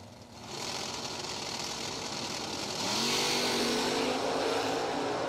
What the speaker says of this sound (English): Here comes the Nova. There goes the Nova.